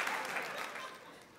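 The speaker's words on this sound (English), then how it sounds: "Clap your hands for the youngest in your family." An audience claps its hands at a live stand-up comedy show, steady dense applause filling the room from start to finish and tapering slightly toward the end.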